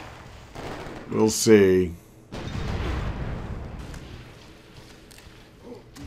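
Artillery strikes in Civilization V land as a deep, rumbling boom that swells and slowly fades after a short spoken remark, with a brighter burst of game sound just before it.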